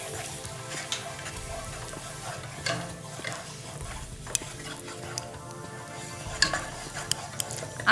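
Onion paste with ginger and garlic paste sautés in a pan for chicken khichuri cooked without oil, a continuous soft scraping of stirring broken by occasional sharper clinks of the spoon against the pan.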